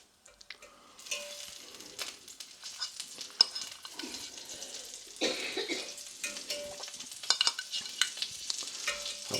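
Butter melting in a pan while being stirred for a chicken, ham and leek pie, a soft crackling sizzle with scraping stir strokes and small clatters, close and fairly quiet.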